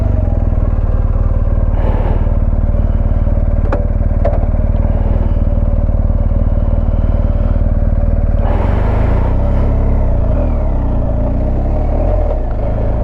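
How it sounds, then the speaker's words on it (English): Motorcycle on Metzeler Karoo 4 tyres riding down a trail, a loud steady engine drone with rumbling wind and clatter throughout, surging louder partway through, with no talk. "get on the bike, head down that trail"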